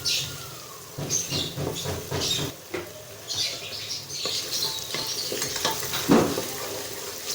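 Ridge gourd curry with tomatoes stirred and fried in a pan, giving a soft, close sizzle with scattered scraping and clinking of the spoon, one sharper knock near the end, and no talk.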